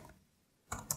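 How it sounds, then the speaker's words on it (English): Typing on a computer keyboard into Google Docs on a Raspberry Pi: a quiet lull, then a close burst of a few crisp key clicks, with no voices. "hello, I am typing in Google Docs"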